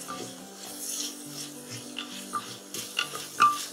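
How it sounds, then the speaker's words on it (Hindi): Tomatoes stirred continuously in a pan over high heat for palak soup, a soft scraping and rubbing of a spoon against the pan with a faint sizzle, steady and close. "टमाटर को भी लगातार चलाते हुए तेज आंच में एक मिनट हो गया है"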